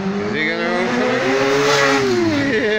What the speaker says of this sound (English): Yeah, check this motorbike now,